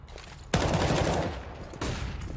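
Counter-Strike gunfire on the Overpass map during a competitive match, a sudden loud burst of rapid shots that rings out and fades, then another sharp volley near the end, with no talk.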